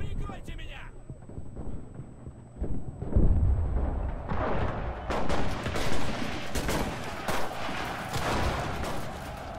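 Gunfire and explosions in the World War II shooter game Enlisted, a deep rumbling blast followed by rapid overlapping shots and bursts, with someone talking over the action.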